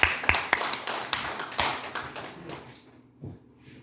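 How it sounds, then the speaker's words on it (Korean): An audience applauding, with a dense burst of clapping and a few sharp taps that gradually fade away within a few seconds. "우리 애터미를 위해서 또 한 번 박수 한번 쳐주세요"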